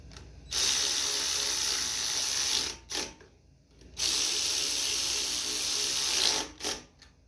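A hand ratchet tightens carburetor bolts on a Huskee front-tine garden tiller, two long loud bursts of rapid clicking, each followed by a short ratcheting stroke, close up with no talking.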